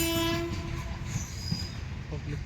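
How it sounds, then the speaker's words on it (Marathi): Train passing through Bhiwandi railway station, a line busy with freight trains: a loud horn blast at the start gives way to a steady rumble of rolling wagons and faint wheel noise, heard alone. "भिवंडी रेल्वे स्टेशन लोहमार्ग आहे मालगाड्या जास्त येतात"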